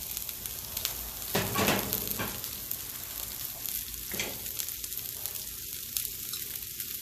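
Half a diced onion frying on a hot Camp Chef Explorer griddle, a continuous close sizzle with a couple of brief scraping bursts as the pieces are moved, no talk over it.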